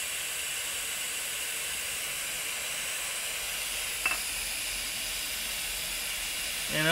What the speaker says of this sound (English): You can see that is a pretty decent amount of steam going there.